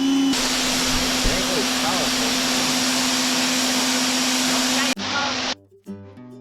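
A Harbor Freight electric pressure washer runs with a loud, steady motor drone and strong hum, then cuts out abruptly near the end, leaving brief softer tones.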